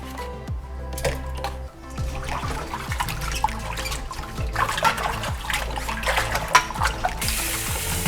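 Yardlong beans are rinsed in water, with close splashing and dripping and the clatter of handling. It grows busier toward the end and ends in a brief rush of running water.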